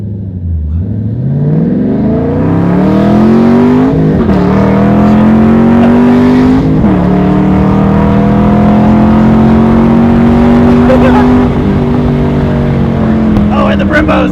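A 2013 Chevrolet Camaro SS accelerates hard from inside the cabin, its loud V8 engine note climbing steadily with a couple of brief gear-change dips, and people talk over the roar.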